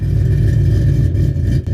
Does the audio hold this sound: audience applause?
no